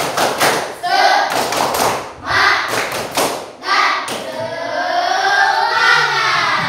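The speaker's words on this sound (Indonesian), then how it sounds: "Tepuk semangat" A school class does a rhythmic spirit clap in unison, loud grouped bursts of claps and thumps with children chanting along, then a teacher's voice takes over.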